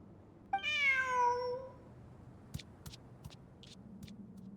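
A cartoonish cat meows once in Genshin Impact, a clear rising-falling call lasting about a second, followed by soft clicks and ticks against a quiet game background.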